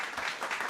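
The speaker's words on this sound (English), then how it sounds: "The audience need to wake up. They're behind on the old clapping." A podcast audience claps in a brief, dense wash of hands, steady and moderately loud with no voices over it.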